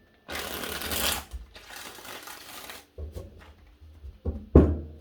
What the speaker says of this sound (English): 5 shuffles for you